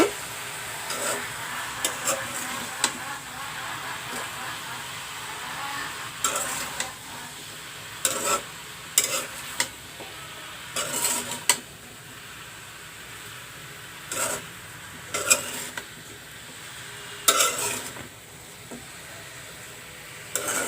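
Young ash gourd and jute leaves are fried in a pan and stirred, giving scattered clinks and scrapes of a utensil against the pan over a soft, continuous sizzle, close up with no speech.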